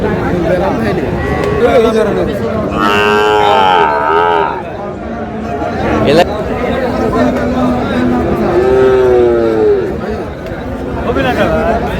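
A Sahiwal bull calf moos at a cattle market in Gaibandha, Bangladesh, a couple of long low calls under nearby chatter and crowd noise.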